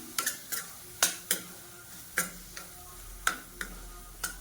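A spoon stirs and scrapes a thick masala of onion and tomato with turmeric and chilli powder in a pan, as a dozen or so sharp irregular clicks and taps that are close but quiet, with a faint sizzle underneath.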